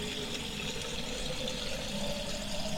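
Water runs steadily from a campsite tap, a continuous hissing, splashing stream at close range with no voices and no breaks.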